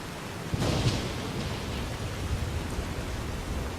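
Steady rain hisses with a low rumble of thunder in the game Fallout New Vegas, a continuous wash of noise at moderate level with no one talking.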